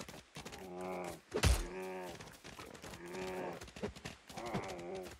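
A cow in the LEGO Fortnite video game moos several times in drawn-out, groaning calls, with a dull thunk between them, loud and close.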